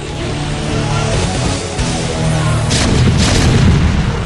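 Siege tanks firing in StarCraft during a TvT finals match: heavy, booming artillery blasts rolling through a loud, dense battle soundscape, with the impacts thickening toward the end.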